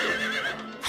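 A horse neighs loudly in Silent Hill 3, a single drawn-out whinny lasting under a second, with a brief breathy snort at the end.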